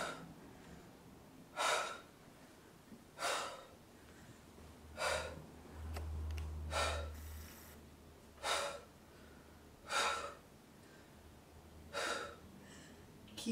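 Heavy breathing from a person holding a plank during an interval workout, with sharp exhalations repeating about every one and a half seconds, close and clear against a quiet background.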